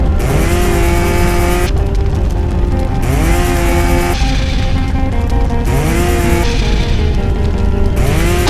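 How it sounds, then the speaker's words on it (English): A firefighter's rotary saw whining and revving in the Real Heroes Firefighter HD video game as it cuts through walls and overturned truck panels, loud and close, rising and dropping in pitch across several repeated cutting passes. "the next best thing is your rotary saw. This tool has you cutting through walls and back of turned over trucks to get through obstacles"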